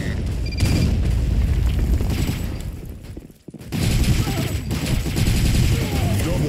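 Grenade explosions and gunfire in the shooter game BlackShot, loud booming bursts layered with rapid shots and a brief dip to near silence midway before the dense battle noise returns.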